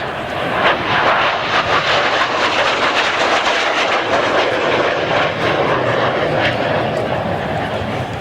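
A Gloster Meteor jet making a high-speed pass at an air show, its two Rolls-Royce Derwent 9 engines flat out, a loud, broad roaring whoosh that fills the whole clip with a slight swell and fade.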